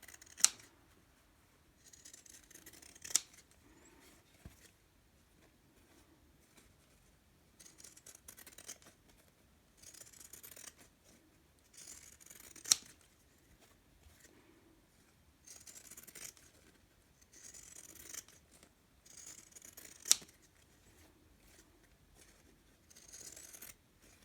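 Fabric trimmed with scissors around the edge of an embroidery hoop: quiet, close snips come in short bursts with pauses between them, plus a few sharp tiny clicks, and no talking.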